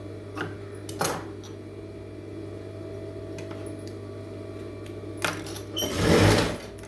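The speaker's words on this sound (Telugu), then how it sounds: "హుక్స్ పట్టీ, కాజా పట్టీకి హెమ్మింగ్ పట్టీ స్టిచ్చింగ్ చేస్తున్నాం" A sewing machine stitches a hemming strip onto a blouse, its motor humming steadily up close, with a few louder bursts of faster stitching along the way.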